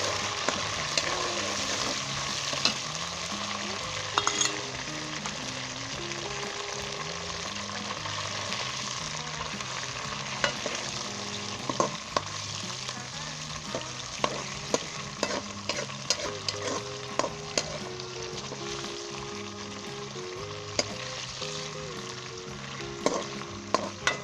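Boneless chicken fries steadily in a pan for biryani under a continuous close sizzle. A spatula scrapes and clinks against the pan at irregular intervals.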